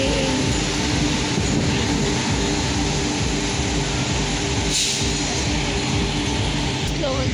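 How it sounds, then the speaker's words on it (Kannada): A train rumbles past nearby, a loud, continuous roar of wheels and carriages that holds steady from start to finish, with a faint voice somewhere underneath. "ಹೋಗ್ತೈತಿ ಟ್ರೈನು ಹೋಗ್ತೈತೆ"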